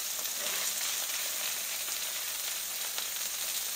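Cubed sausage and peppers frying on a griddle over medium-low heat give a steady, even hiss and crackle, fairly close, with no talking.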